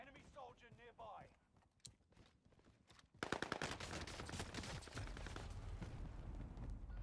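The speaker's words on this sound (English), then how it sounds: "Damn, shotguns don't work very well." Repeated shotgun blasts ring out in a first-person shooter video game, a dense run of loud gunfire that starts a few seconds in after quieter game sounds and a speaking voice.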